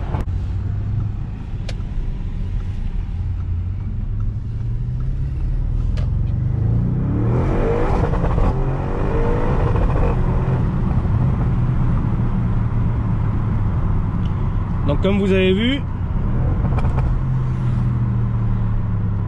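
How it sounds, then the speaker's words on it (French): A car engine revs hard and bounces against the rev limiter, the roar swelling midway and sustained loudly with a brief stuttering cut near the end, while someone talks briefly over it. "c'est une voiture qui prend les ruptures"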